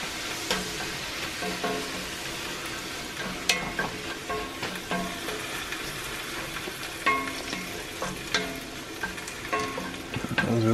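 A cast iron pan sizzles as steak broth deglazes it after searing steak, a crackling, hissing fry with scattered sharp pops and scraping stirs, moderately quiet and close, with no talking.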